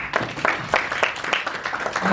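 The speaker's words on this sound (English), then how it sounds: "A round of applause for him." Scattered applause from a conference audience at a digital education and wellness event, moderately near, with individual claps showing through and a voice speaking over it.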